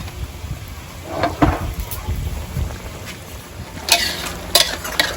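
Paddy eel being stir-fried with curry paste in a pan, spatula scrapes and stirring clatter with a soft sizzle, a few sharper clinks near the end.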